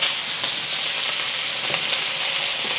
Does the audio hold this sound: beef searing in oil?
yes